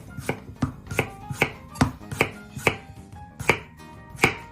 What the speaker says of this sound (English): I'm making cuts like this to help them absorb the flavor.